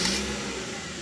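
A 1990s car engine runs steadily just after starting, a close, continuous mid-pitched hum with a slight rev at the very beginning and no talking.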